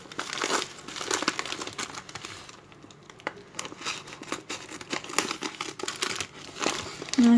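Mail package being opened with scissors, paper and plastic wrapping crinkling and tearing in a close, continuous stream of rustles with brief snips, no talking.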